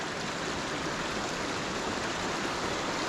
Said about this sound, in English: So you can see the water trickling, cascading all the way from up there.